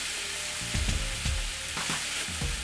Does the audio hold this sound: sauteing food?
yes